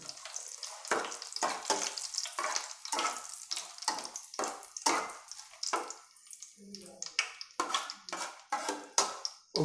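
Curry leaves crackle and spit in hot oil for a village-style fish curry, a rapid series of sharp sputters and bursts, close and fairly loud, with no talk.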